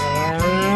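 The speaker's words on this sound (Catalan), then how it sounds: "Na Victòria, la vaca, ven verdures a la tenda de queviures." A cow lets out one loud, sustained moo with a steady, rich harmonic tone that runs close and alone through the whole short moment, with a slight swell near the middle.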